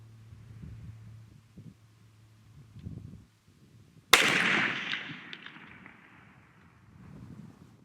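A single sharp rifle report from a custom Hankins smokeless powder muzzleloader, loud and close, cracking out suddenly and trailing off into a long decaying rumble, with quiet background before it.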